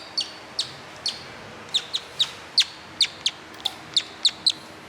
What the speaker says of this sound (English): It's a bird call.